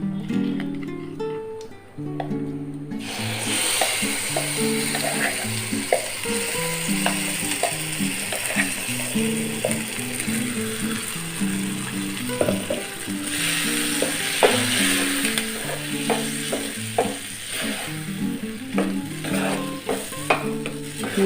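Ground okra and coriander chutney frying in a pan, a steady sizzle with frequent rhythmic scraping and clinking of a spoon stirring, continuous and close with no talking.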